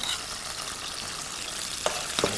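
Garlic hits a hot frying pan while bean sprout japchae is being cooked, giving a steady, close, hissing sizzle with a couple of light scrapes near the end.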